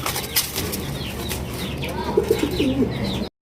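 A pair of Mosaldom pigeons at a pigeon sale coo in low, throaty bursts, with faint chirps and a soft rustle of wings in the background, ending in a brief silence.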